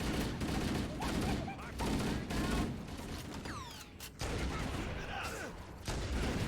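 Rapid gunfire rattles through a Halo video game battle, dense bursts of shots and blasts layered with game effects, loud and continuous, with voices faintly heard under the fire.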